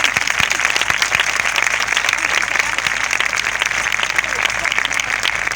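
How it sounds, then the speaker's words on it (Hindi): A church congregation claps at a preacher's urging, a sustained, even roar of many hands with occasional sharper claps standing out near the front. "जरा बजाओ तालियां"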